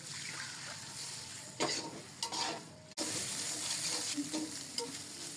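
A splash of water hits a hot frying pan of sautéing garlic, ginger and onion paste with ground spices. Stirring and sizzling build to a sudden, loud, sustained hiss partway through.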